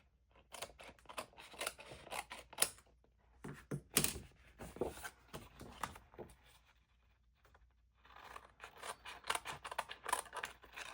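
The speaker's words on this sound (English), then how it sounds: "let's flip it over and trim those edges" Scissors snip repeatedly along cardstock edges while trimming a page base for a February album project, with crisp close cuts in two bursts separated by a brief pause.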